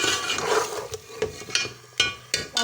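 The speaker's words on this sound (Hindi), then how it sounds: "जी ये 10 मिनट हो गए इसको फ्राई करते हुए।" A fish head fries in a pan for curry. Sharp stirring and scraping knocks sound over a soft background sizzle, close and irregular, with a few distinct clatters of the utensil against the pan.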